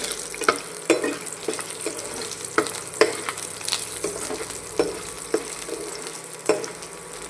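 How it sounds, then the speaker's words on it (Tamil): Garlic cloves fry in oil with a constant sizzle while a spatula scrapes and taps the pan in regular strokes about once a second, close up and without speech. "பூண்டையும் நல்லா வதக்கிடணும் ஃப்ரெண்ட்ஸ்"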